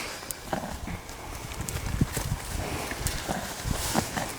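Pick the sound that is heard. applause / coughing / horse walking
horse walking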